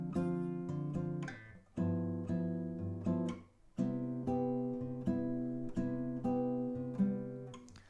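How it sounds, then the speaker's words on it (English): Bossa Nova jazz chord sequence strummed on acoustic guitar, a series of rhythmic, ringing chords played close and fairly quietly, alone without talking. "I'm going to be teaching you one from Brazil called Bossa Nova."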